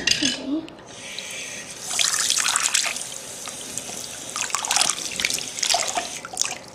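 Running water fills a bath for a pet dog on its first wash, a splashing tap stream that swells and fades, with people talking over it.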